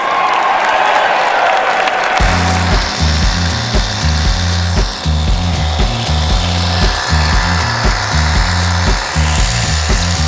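A loud, grinding power drill bores into an indoor floor, running continuously, its motor pulsing in uneven bursts, with no talk over it.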